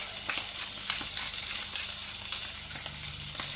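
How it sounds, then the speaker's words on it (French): Seasoned trompettes des morts mushrooms fry in hot oil in a pan, giving a steady, close sizzle scattered with small crackles and pops throughout. "On va bien les faire rissoler."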